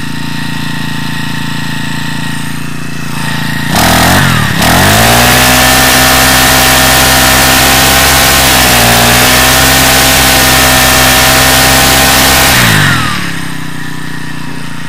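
A Champion T334FS four-stroke brush cutter engine idles steadily, then revs up to a high, sustained whine for several seconds before dropping back to idle after carburettor adjustment; loud and close.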